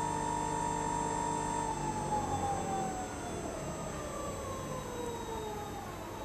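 A servo motor on a test rig runs at 3,000 RPM under a 19 newton-metre load, giving a steady whine with tonal hum whose pitch glides down partway through, fairly quiet and continuous.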